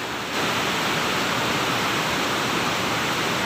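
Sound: waterfall at the end of the Citi'is river

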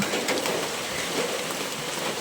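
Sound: rain falling

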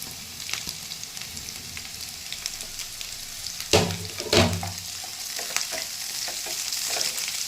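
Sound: sliced onions and capsicum frying in a pan

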